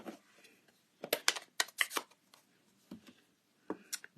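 A rubber stamp is pressed onto cardstock: a quiet series of short, sharp taps in quick clusters, close by with near silence between them.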